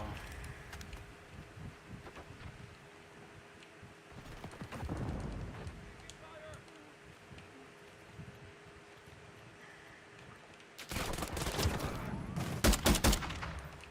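Video game gunfire: bursts of rapid shots in short volleys, one around the middle and a louder sustained stretch near the end, over low background noise.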